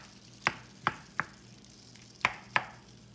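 Tofu being broken up in a frying pan gives five sharp, separate knocks at uneven intervals, fairly close and clear over a quiet background with no talk.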